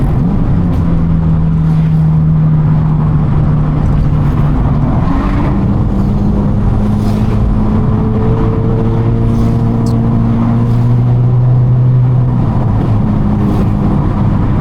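A Honda Civic on a night drive through Cagayan de Oro hums loudly and continuously, with a low engine drone shifting pitch as it revs, and no talk over it.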